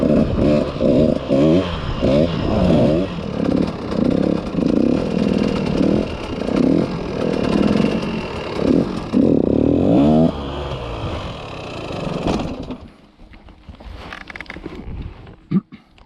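A dirt bike engine under throttle during a circle wheelie on an enduro bike: a loud, steady throaty drone with pulsing revs for about twelve seconds, then a sudden cutoff into quiet clatter.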